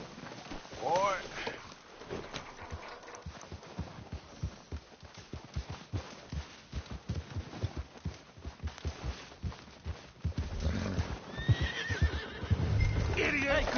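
Horse whinnies and clip-clopping hooves in a PS4 video game, a high neigh early on, then steady hoofbeats under game chatter and music, with voices talking near the end.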